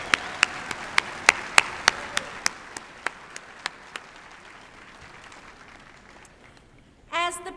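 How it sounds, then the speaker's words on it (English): Sparse, evenly spaced claps ring out at a Fall 2015 graduation ceremony before the procession, a few distinct sharp hand claps that gradually soften and stop, followed by a brief burst of voice. "I believe applause are quite appropriate."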